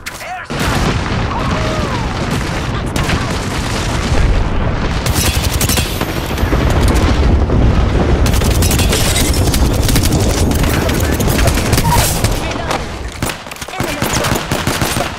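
Dense game gunfire and explosive booms from Apex Legends, sustained rapid automatic bursts with heavy impacts and missile blasts running loud and nearly continuous throughout.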